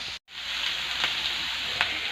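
Onion masala for mutton kurma sautés in a pan with salt and curry leaves, giving a steady soft sizzle with a few light crackles after a brief cut at the start.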